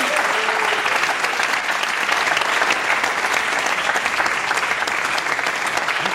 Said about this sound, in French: Basile Lecoq, on l'applaudit.